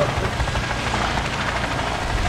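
A helicopter in the video game Arma 3 gives a loud, continuous rotor and engine drone that stays steady throughout.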